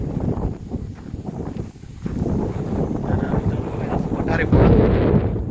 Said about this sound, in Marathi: मस्त हवा सुटली हवा सुटली मित्रांनो